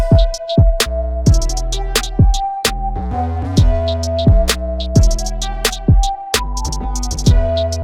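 Deep booming 808 bass notes made in the Xfer Serum synth under a punchy trap beat with crisp hi-hats and snappy percussion, loud and continuous.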